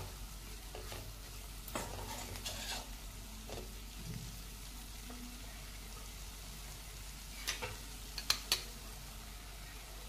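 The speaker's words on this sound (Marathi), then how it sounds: "हे बेसनही 2 ते 3 मिनिटं आपण याच तेलावर परतून घ्यायचं आहे।" Gram flour (besan) roasts in oil in a pan, a quiet low sizzle with occasional spatula scrapes and a few brief clinks near the end, faint and close.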